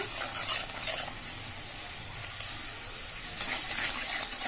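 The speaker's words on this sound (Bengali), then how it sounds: "ডিমটা ভালোভাবে নাড়িয়ে নেব।" Two eggs being stirred into a cooked-down spiced mixture in a frying pan: a continuous close sizzle and hiss with faint scraping strokes, steady throughout and without speech.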